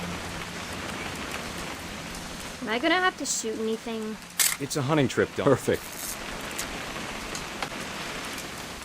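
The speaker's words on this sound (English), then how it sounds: "It's gonna rain the whole weekend, isn't it?" Steady rain patters in the video game What Remains of Edith Finch, a constant hiss that continues beneath a short exchange between two people in the middle.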